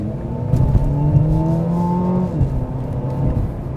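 A 2020 Mercedes-Benz CLA 250 4MATIC's two-litre engine revs hard and climbs in pitch with a throaty, sporty growl, close and loud, then settles back to a steady drone.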